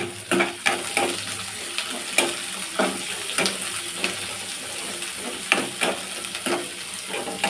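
Onions sizzling with mustard seeds and curry leaves in hot oil, stirred with regular scraping strokes that come in rhythmic bursts over a constant close frying hiss.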